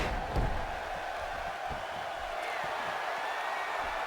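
A wrestling crowd at a New Age Wrestling event roars in a faint, distant, steady wash of cheering with a thud near the start.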